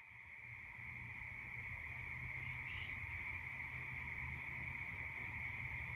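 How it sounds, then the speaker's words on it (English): A loud, steady insect drone holds one high pitch for the whole stretch, like cicadas shrilling in the trees, with a low rumble underneath. "I can hear the cicadas."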